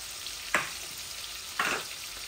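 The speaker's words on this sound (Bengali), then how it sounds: "ও দেখো মাছ ভাজি আমি বয় দিছি।" Tilapia pieces frying in hot oil in a pan give a steady close sizzle, with two brief louder bursts of spitting as fish is moved or added.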